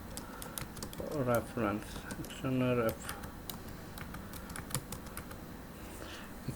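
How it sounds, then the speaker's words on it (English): Typing on a computer keyboard while working in AutoCAD, a steady run of close, light key clicks throughout, with someone speaking briefly over the early part. "I will type the name external"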